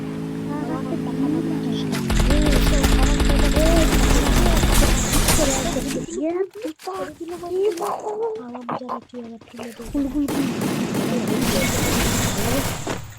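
Rapid automatic gunfire in a video game crackles loudly in dense bursts, breaking off midway before resuming, with excited talk over the shooting.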